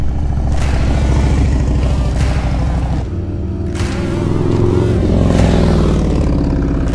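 Harley-Davidson Highway King motorcycle engine revving up and down close by, a deep throbbing rumble that swells in repeated bursts with mechanical clatter, alone without talk.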